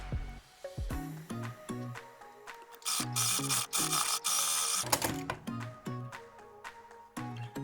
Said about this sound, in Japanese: ちょっと大きめにこちら裏地の鼻のところのこのように縫っていきます。